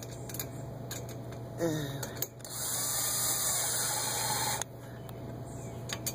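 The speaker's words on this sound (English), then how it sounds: "I got 6mm with the extension into the power driver" A power driver with a 6mm socket on an extension tightens nylon-insert lock nuts on a backyard trampoline frame, with a few quick clicks and then one sustained high whirring run of about two seconds, fairly close.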